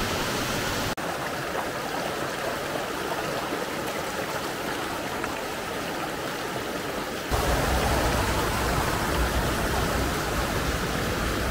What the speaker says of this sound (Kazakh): Мына мінеке Аюсай өзені сарқырап ағып жатқан.